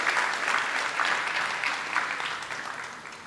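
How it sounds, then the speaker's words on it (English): A conference audience breaks into applause for a former Mombasa governor, a dense burst of many hands clapping together, fairly close and steady for a few seconds before easing slightly at the end. "Let us clap for him."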